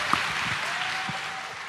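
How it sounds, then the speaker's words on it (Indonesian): An audience at a university forum for Anies Baswedan claps in steady, sustained applause that fills the room evenly from start to finish. "Kita kasih tepuk tangan untuk Anies Baswedan."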